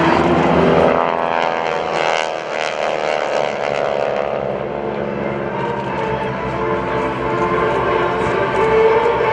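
Propeller aircraft of the GEICO Skytypers flying in diamond formation at an Air National Guard airshow, a loud sustained droning roar of several engines that rises and falls slightly as the planes pass, with no talk.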